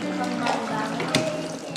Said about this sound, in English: Meanwhile, we keep paddling.